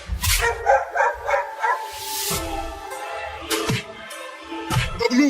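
Cartoon dogs bark repeatedly in front of a wooden house, giving sharp, loud yips and woofs in irregular bursts, with some overlap between them.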